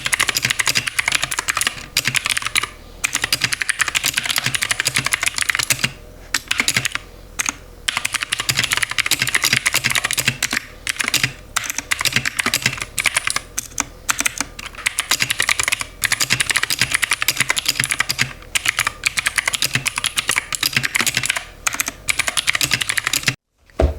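A computer keyboard clatters with rapid, continuous typing as a draft is written, close and crisp, broken only by brief pauses between bursts of keystrokes.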